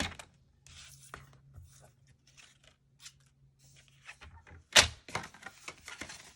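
Paper scraps for a handmade card being snipped with scissors, a few quiet cuts followed by one sharp, close snip and a brief rustle of paper.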